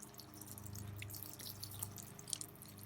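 Rain runoff drips steadily along a hammock drip line at a campsite, a soft, continuous run of small close water drops over a low background hum, with no voices.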